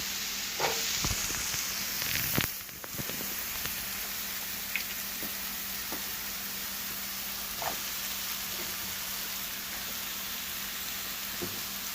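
Steady sizzling of vegetables frying in a pan for shrimp lo mein, a continuous crackling hiss with occasional sharper pops and one brief clatter near the start.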